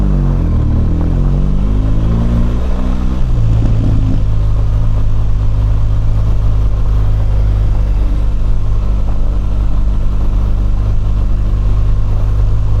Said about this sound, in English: let you hear the sound of this amazing Boxer engine